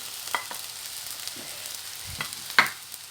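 Zucchini, eggplant and onion sautéing together in a pan: a soft steady sizzle broken by a few sharp spoon or spatula scrapes and clicks, nearby and fairly quiet, with no voices.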